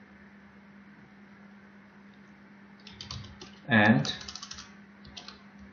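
Keyboard typing while coding in C# for a hostel management system: a short burst of clicks near the middle, followed by scattered lighter key taps, all over a steady low hum with a single spoken word.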